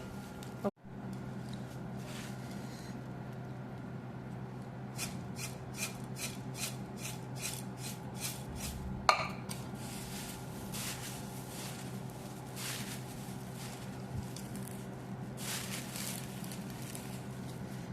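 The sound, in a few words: shaking puffed rice mixture in a capped container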